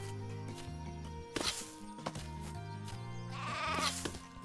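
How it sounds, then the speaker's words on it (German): Sheep bleating in the crafting game Craft the World, with several distinct wavering bleats over a soft, tonal game music background. "Oh, und da ist ein Schaf."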